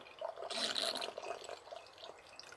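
Cabernet Sauvignon wine pours into a bottle with a steady liquid splash and bubbling gurgle, loudest early and tapering off, close and alone.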